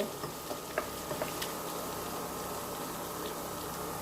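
Chopped onions fry in a pan for vegetable khichuri, giving an even, moderate sizzle with a few crisp pops and crackles early on, and no voices.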